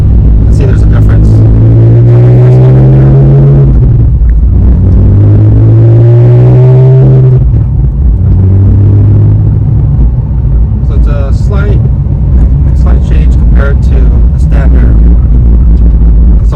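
Porsche 997 on the road in dynamic mode, its engine rumbling loud and close with rising and falling tones as it accelerates and shifts, a voice briefly heard over the drive.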